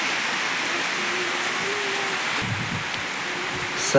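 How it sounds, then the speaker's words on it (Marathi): Continuous rain hisses evenly in the background, with a faint low hum and a few small knocks near the end. "आज पाऊस आहे ना"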